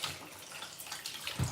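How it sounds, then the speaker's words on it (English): Hands washed under a running kitchen tap while cooking, a soft steady stream of water with light splashing, fairly quiet and brief. "I'm just gonna wash my hands."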